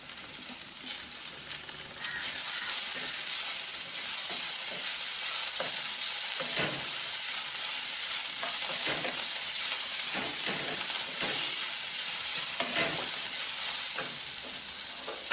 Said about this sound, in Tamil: நல்லா ப்ரௌன் கலர் வர்ற வரைக்கும் நல்லா வதக்குங்க.